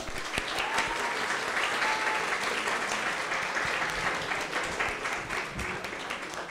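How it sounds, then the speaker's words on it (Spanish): Audience applause for panel speakers at a talk on sexual and reproductive rights, a steady wash of many hands clapping at even loudness, with a few sharper individual claps standing out. "Vamos a darles un aplauso."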